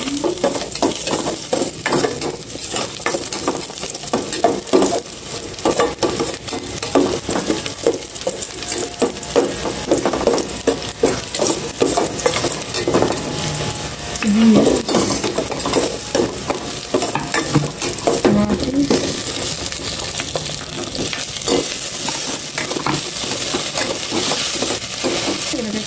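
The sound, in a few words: garlic being stir-fried, sizzling in a pan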